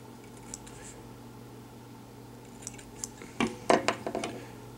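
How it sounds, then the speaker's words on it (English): A few crisp, close snips of long scissors trimming hackle feather on a hopper fly, in a quick cluster near the end, after a quiet stretch with faint clicks over a low steady hum. "we're going to take our scissors and we're just going to trim"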